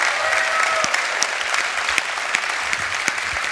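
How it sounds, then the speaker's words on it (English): Audience applause at the MediaTek CEO keynote during COMPUTEX 2024 in Taiwan: a sustained, dense wash of many hands clapping from a large crowd, steady throughout without speech. "give him an applause"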